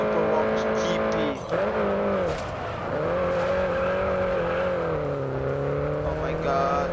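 A Mini Cooper John Cooper Works GP races in Grid Autosport, its engine droning and rising steadily with gear changes and brief tire squeals, loud and close, while someone talks over it.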